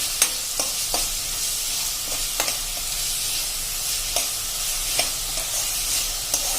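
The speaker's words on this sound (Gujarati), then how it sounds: "આને પણ આપણે એકદમ સ્લો ફ્લેમ ઉપર જ તેલમાં સાંતળી લેશું" Onions sautéing in oil over a low flame for an okra curry, a gentle continuous sizzle with periodic spatula scrapes and taps against the pan, close up and without talk.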